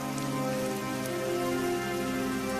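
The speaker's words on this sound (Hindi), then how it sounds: "इतनी तेज बारिश हो रही है" Heavy rain falls in a strong, steady downpour, a close continuous wash of drops that stays even and loud from start to finish, with no voices.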